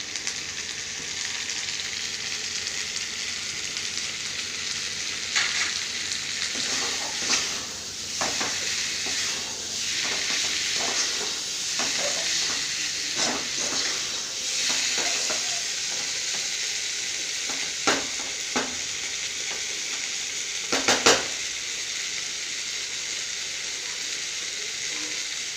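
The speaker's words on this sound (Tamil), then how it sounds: "நல்லா அப்படியே குழம்பு கொதித்து வற்றணும்." A pan of kuzhambu curry bubbles and sizzles steadily as it boils down and reduces, a constant close hiss broken by brief louder pops and stirring clinks, with no one talking.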